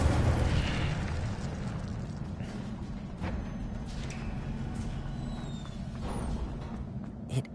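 In Hogwarts Legacy, an Incendio fire spell bursts out with a heavy, close whoosh and boom, then settles into a sustained roaring, crackling rumble that continues for several seconds.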